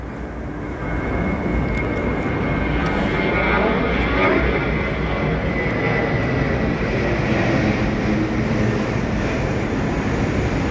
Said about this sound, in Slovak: Hore lietajú lietadlá každú minútu.